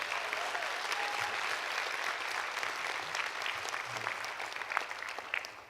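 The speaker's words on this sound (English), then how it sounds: "give all the tech staff and all the support staff a round of applause" Conference audience at a community engagement keynote claps for tech and support staff, the round of applause dense and sustained, fading slightly toward the end.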